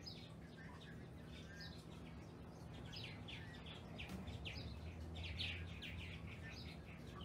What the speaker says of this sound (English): Today it's the birds. But I have two big Martin colonies.